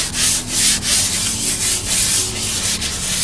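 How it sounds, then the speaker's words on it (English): A paper towel soaked in rubbing alcohol is rubbed briskly across a surface to clean it, giving a steady scratchy swishing in close, rhythmic back-and-forth strokes with no voices. "So you would use a paper towel and rubbing alcohol, like so,"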